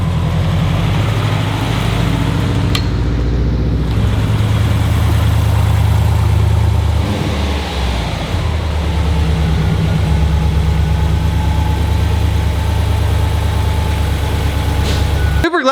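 A Subaru WRX STI engine idling right after its first start, a loud, steady low rumble held close for the whole stretch with a slight dip in the middle.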